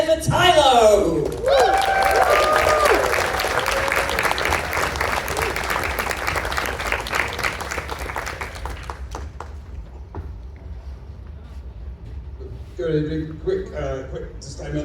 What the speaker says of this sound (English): So folks, give us a cheer for Tylo!